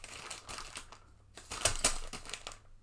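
A plastic bag holding a small bagged item crinkles in irregular bursts, louder near the middle and quieter at the start and end, with no voices.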